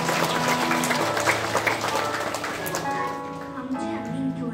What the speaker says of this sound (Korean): 아멘. 박수로